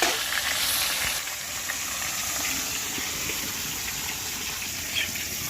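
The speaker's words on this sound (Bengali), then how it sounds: "এই দেখো মাছ ভাজা চলতে" Fish frying in a pan in a home kitchen gives a steady, soft sizzle and crackle of hot oil throughout, close by, with no talking.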